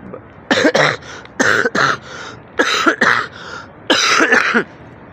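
A person coughs repeatedly in short bursts of two or three inside the Prophet's Mosque in Medina, close and fairly loud, with brief pauses between the fits.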